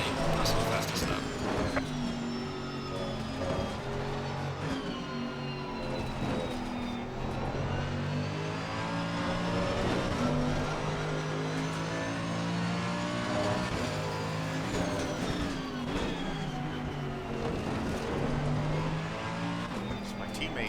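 Race car engine in the Assetto Corsa Competizione racing game, droning and revving continuously through laps with rising and falling pitch as gears shift, loud and close, with a voice talking over it at times.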